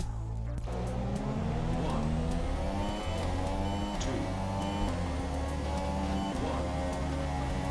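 A racing car engine in an F1 video game at the USA Grand Prix drones with a steady, high revving tone and shifting pitch steps, loud and continuous throughout.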